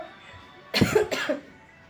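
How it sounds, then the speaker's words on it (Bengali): Two quick, close coughs from a person with a heavy cough, sounding during a haircut session indoors, with no talk around them. "সরি প্রচণ্ড কাশি হয়েছে"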